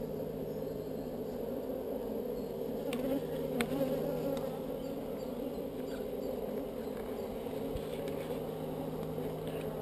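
Dense, continuous buzzing of honeybees close by at an opened hive, a steady humming drone with a few brief knocks and clicks of hive frames mixed in.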